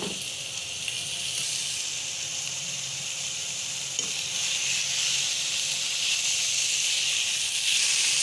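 Boneless half chicken breast pieces fry in a couple of spoonfuls of hot oil, giving a steady, loud hissing sizzle throughout with a few faint clicks and a slight rise toward the end.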